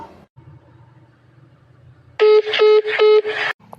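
A telephone line cuts off with loud repeated electronic tones, three or four even bursts in a steady rhythm, after a quiet stretch of faint low background murmur.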